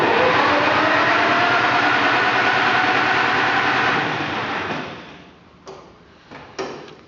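A John Deere 820 tractor engine runs steadily and loud for about four seconds, then fades down to quiet with a few brief sharp knocks near the end.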